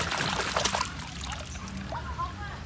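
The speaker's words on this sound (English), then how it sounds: "Shake it in water" A red toy racing car shaken in water, giving close sloshing, trickling and splashing bursts that are busiest at first and then ease into lighter dribbles, with a voice talking faintly underneath.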